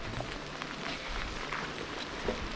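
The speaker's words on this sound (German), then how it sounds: "Wieder Regen." Steady rain patters on surfaces as a continuous hiss in a Swedish moor, with occasional louder drops and low background rumble.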